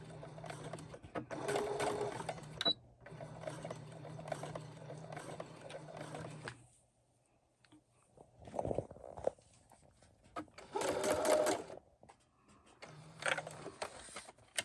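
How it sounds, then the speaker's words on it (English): Sewing machine stitching around a cloth 3D face mask, running in several steady bursts of a few seconds with quiet gaps between, close and clear, with a short backstitch pause. "now what you would need to do is sew all around the mask and then leave this part open"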